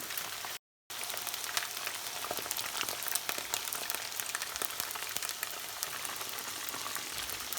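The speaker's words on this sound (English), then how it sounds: "So give it some time to fry before you start stirring" Steady, dense sizzling of chicken pieces frying in hot oil for General Tso's chicken, loud and close, with crackling pops throughout and a brief dropout near the start.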